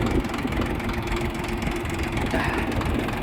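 A Kentavr 244SX mini tractor engine runs in low first gear off-road, giving a steady, loud, close diesel-like rumble that stays even throughout with no talk.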